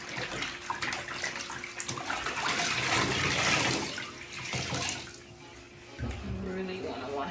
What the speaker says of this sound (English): Rinse the shirt out because you don't want to wear it with all that bleach.